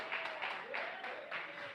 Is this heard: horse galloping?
no